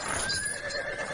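A horse neighs loudly and close in a period audio drama scene, a single drawn-out whinny over a steady rustling background, with no talk.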